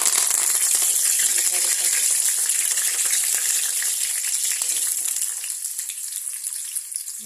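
Hot oil sizzles and fries in a pan while fish curry is cooked, a steady bright crackling hiss that gradually softens and thins toward the end.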